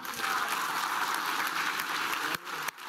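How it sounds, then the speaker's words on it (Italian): Lecture audience in Milan applauding, a continuous dense clapping sound at moderate level that drops off abruptly near the end. "Fatemi un applauso."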